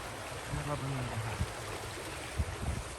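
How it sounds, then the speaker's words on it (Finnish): A small brook babbles steadily beside a heath forest trail in Posio's Korouoma area, a soft continuous trickle and wash close by, with someone speaking briefly over it. "Purava solisee."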